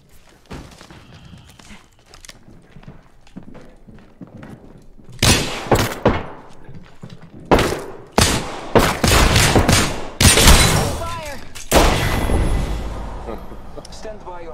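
Longbow sniper rifle shots in a battle royale video game, with sharp, loud bursts arriving in irregular clusters over continuous game ambience, while players talk throughout.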